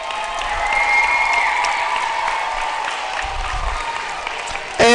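An auditorium audience at a school Shark Tank event claps steadily in a sustained round of applause, a dense even patter holding for several seconds before a sudden louder burst at the very end.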